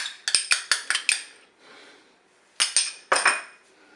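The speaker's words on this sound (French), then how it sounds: "Je mélange" A spoon stirring tomato paste and mustard in a Cookeo multicooker pot, heard as a quick series of bright metallic clinks against the pot, a pause, then two more scraping knocks.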